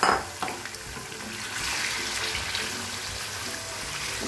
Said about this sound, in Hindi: अब चिकन जो है इसमें अच्छी तरह से फ्राई हो जाएगा